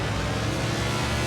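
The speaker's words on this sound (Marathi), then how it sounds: "आवाज बघा या गाडीचा मजा" A car engine in a driving video game drones steadily, loud and continuous, with no speech over it.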